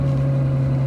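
Full-carbon Novitec Ferrari 812 N-Largo S V12 engine holding a loud, steady, deep drone for under a second, with no break in the tone and no voices.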